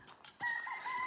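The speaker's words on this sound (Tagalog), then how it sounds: "Ang ingay ng manok." A rooster crows nearby, a sustained strained call rising after a few soft clucks, fairly clear over quiet background.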